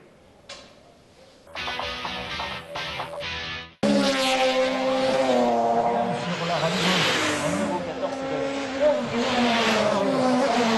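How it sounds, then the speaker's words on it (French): Race cars roar up an asphalt hill-climb course at La Pommeraye's 45th edition, engines loud and close with rising and falling pitch sweeps, a voice speaking over them after a quieter opening. "l'asphalte a pu goûter à la gomme de tous les bolides"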